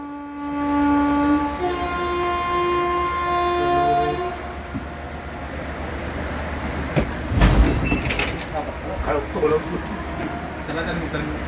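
Mangalore Superfast Express departing on its run from Mumbai toward Konkan, with a long, loud horn at the start, then the clatter of the moving train and a rumble of carriages, with faint talk nearby.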